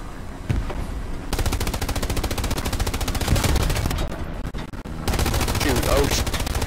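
Gunfire in the World War II shooter Hell Let Loose, dense rapid bursts like machine-gun fire running almost continuously and loud, with a brief lull near the middle, while players talk over it.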